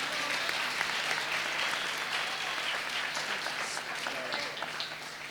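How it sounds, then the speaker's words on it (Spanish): Audience applause at a gala event in Madrid, a steady, moderately loud wash of many hands clapping together that holds its level throughout. "Un aplauso, por favor."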